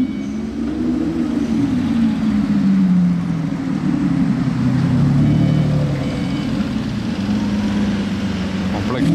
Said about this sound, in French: J'entendais un V12 arriver Lamborghini, je pensais à une Aventador, mais non.